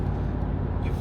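A 2017 Mercedes-Benz G63 AMG Edition 463 engine runs with a loud, deep, steady low rumble heard from inside the car during a test drive, alone and unbroken for about a second.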